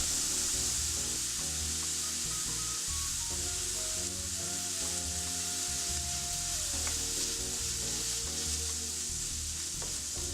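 Onions and red pepper flakes frying in a skillet, with a continuous close, loud hiss and crackle of sizzling oil and occasional stirring scrapes, no voices.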